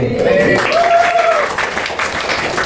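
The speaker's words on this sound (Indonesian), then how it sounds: "Sekali lagi tepuk tangan buat kelompok 3" Applause from a classroom audience for a student presentation group, a steady wash of clapping that runs continuously and fairly loud, with voices mixed in underneath.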